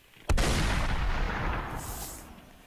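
Gunfire in a video game: a single loud, sharp shot or blast hits near the start and leaves a long booming tail that fades over about two seconds, with no talk.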